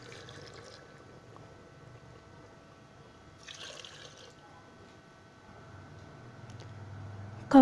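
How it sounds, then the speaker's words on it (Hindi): Two cups of water poured into a pot of beef karahi, a soft liquid splash and trickle in two brief bursts over low kitchen background noise. "टू कप पानी ऐड करेंगे इसमें।"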